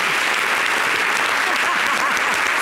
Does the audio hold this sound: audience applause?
yes